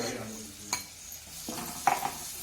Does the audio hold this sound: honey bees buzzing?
no